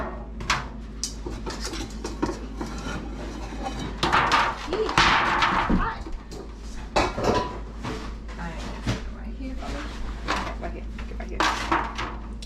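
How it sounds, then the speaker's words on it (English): A baking pan is pulled from a kitchen cupboard with knocks, metallic clatters and a scraping slide, plus a cupboard door thudding, while a person speaks over it. "Now I'm gonna get this pan."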